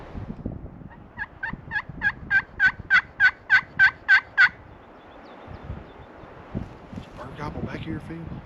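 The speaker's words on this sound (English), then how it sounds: "Both of them were stretching their necks out and gobbling" A wild Merriam's turkey in mountain country gobbles in a rapid rattling burst of about a dozen pulses, fairly close, then quieter rustling and wind follow with a faint second gobble further off.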